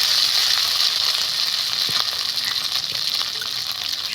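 Poppy seed and mustard paste hits a hot pan of spiced pabda fish curry base, sizzling loudly and continuously close up, with a few faint scraping ticks and no voices.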